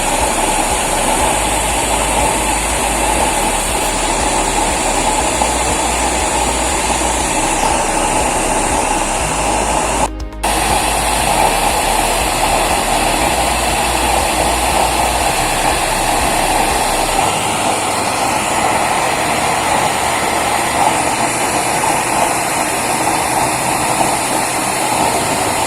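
A heavy-duty engine test-fired with a semi anti-splash-proof cover fitted, running as a loud, steady drone for the whole stretch, broken by one brief cut near the middle, with a low rumble that eases toward the end.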